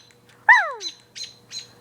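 A bird swooping at a person gives one sharp, loud squawk followed by three quicker, fainter raspy calls, clear against a quiet outdoor background.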